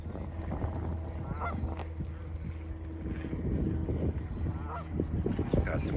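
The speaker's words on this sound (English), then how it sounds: "Check out the Canadian goose over here." A Canada goose gives a few faint, brief honks outdoors near water during a fishing and kayaking outing, mostly buried under steady wind and low rumble.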